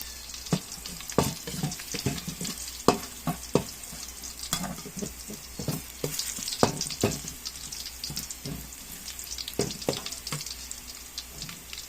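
Garlic browning in a pan for chicken tinola makes a close, crackling fry, broken by frequent sharp scrapes and taps of a utensil stirring against the pan.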